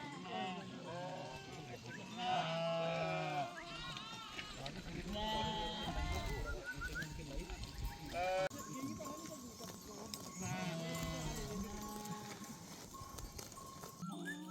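A herd of goats and sheep bleats repeatedly at a high meadow herders' camp near Rudranath temple, with overlapping calls close by and someone talking over the animals.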